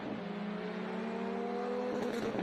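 Rally car sliding through a handbrake turn on a gravel stage at Rally Bay of Plenty, engine note droning steadily at a distance, then gravel scatter and crunching in the final second.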